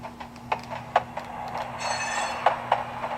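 HO scale C&O caboose with a Soundtraxx sound decoder playing railcar running sounds: faint clicks and clinks over a low steady hum, with a brief high squeal in the middle.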